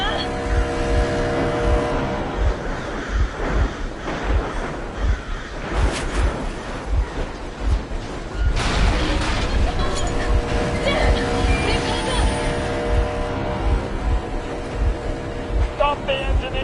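A vehicle engine runs steadily in a game scene, a loud low rumble with a regular thumping pulse that stays up front throughout, with voices talking over it at times.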